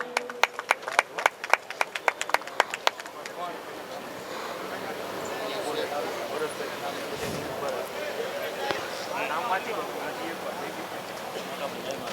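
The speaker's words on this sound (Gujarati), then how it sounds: "આપણે જોરદાર તાળીઓથી સાહેબના સ્વાગતને વધાવશું" An audience welcoming a guest with applause: a burst of sharp, separate claps at first, then a steady wash of crowd noise with people talking over it.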